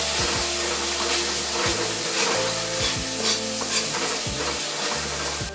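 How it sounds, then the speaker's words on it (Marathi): Ground masala paste sautéing in hot oil, a steady close sizzle with a spoon stirring and scraping through it, continuous and fairly loud with no talking. "थोडी परतवून झाली की यामध्ये वाटून घेतलेला मसाला घालायचा. तेलावर छान असा परतवून घ्यायचा आहे."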